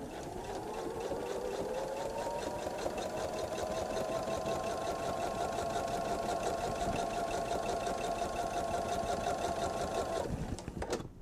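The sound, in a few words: sewing machine stitching with stitch in the ditch foot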